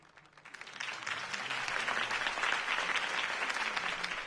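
An audience at a campaign rally for Harvey Dent breaks into applause, the clapping swelling quickly from a soft start into sustained, dense clapping that stays fairly distant and carries on to the end.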